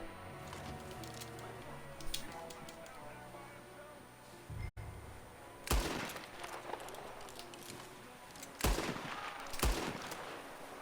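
Gunfire in Red Dead Redemption 2: a few sharp, loud shots spaced several seconds apart, each ringing out over a bed of music and game ambience.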